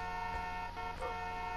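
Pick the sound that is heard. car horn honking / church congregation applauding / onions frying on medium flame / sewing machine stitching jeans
car horn honking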